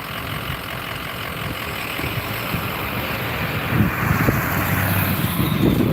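A white truck's engine runs with a low, steady rumble under wind buffeting the microphone, swelling slightly as it moves off near the end, with no talking.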